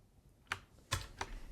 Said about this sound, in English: Now we can just type GF to go to the file.